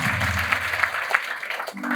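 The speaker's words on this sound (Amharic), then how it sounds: "አጨብጭቡ" Congregation applause at a church service, steady scattered clapping with a few sharper claps standing out, a low voice or hum briefly underneath near the end.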